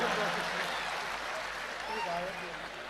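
Audience applause at a Hindi comedy show, a steady wash of clapping filling the space with faint voices woven through it.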